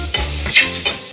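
Green chillies crackle and sizzle in hot oil during village cooking, loud and close, with three surging bursts of frying and stirring scrapes and no voices.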